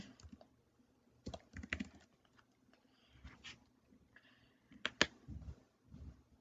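Keys on a computer keyboard are tapped in short, quiet bursts separated by gaps of near silence, close and faint, with no speech.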